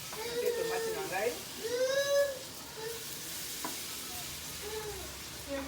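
Tomatoes frying and being stirred in a pan while cooking elubu mbisi, a steady sizzle running through the whole stretch, with someone talking over it in bursts.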